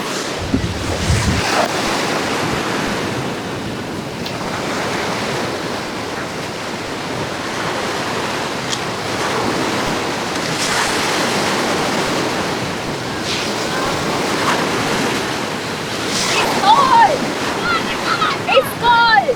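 Atlantic Ocean surf at a beach in Benguela, Angola: waves wash in and break in a steady rush, heavy wind buffeting the microphone throughout, loud and close.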